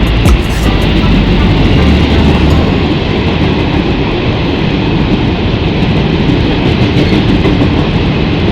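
Steady loud rumble inside an economy carriage of the Cirebon Fakultatif train while running, a continuous dense roar of wheels and car body with no talk.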